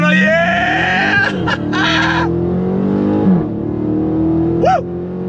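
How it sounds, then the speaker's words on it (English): A 2023 Chrysler 300C engine roars loudly and steadily from a standstill as it pulls hard, with a brief squeal or honk-like tone near the end. "We gotta go on throttle again from a dead stop."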